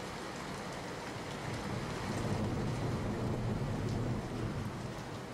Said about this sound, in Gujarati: વીજળીના કડાકા બડાકા સાથે સમગ્ર પંથકમાં ક્યાંક ધીમી ધારે તો ક્યાંક ધોધમાર વરસાદ પડ્યો